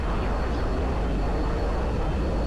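In Battlefield 2 an aircraft engine drones as a loud, steady roar with a constant low rumble, continuous and unbroken.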